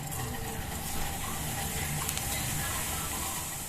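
Cumin seeds (jeera) sizzle in hot sunflower oil in a kadahi, a steady, close hiss that holds level for several seconds with no voices.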